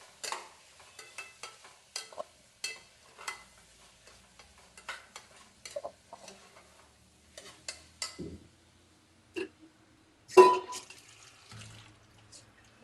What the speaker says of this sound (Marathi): थोडं लाल तिखट आणि मिक्स करून घेते.